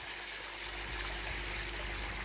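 A koi pond return, where water pouring back into the pond makes a continuous rushing trickle, steady and fairly close, with a low rumble underneath.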